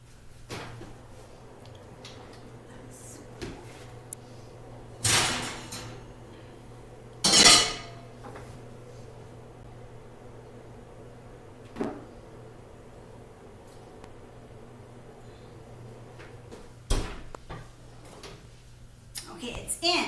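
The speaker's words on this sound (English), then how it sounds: "the adult opens the oven to put the cake in" An oven door is opened and a cake pan set inside in a home kitchen, heard as a few scattered metallic clanks and thuds separated by quiet stretches, with a faint steady hum underneath.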